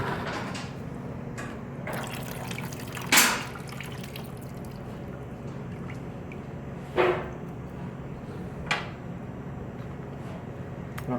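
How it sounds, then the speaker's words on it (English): Coolant drips from a removed hose on a Yamaha R1M motorcycle during a coolant flush, with a few separate faint splashes spaced seconds apart over a steady low background hum. "Of course, it's dripping all down the pipe."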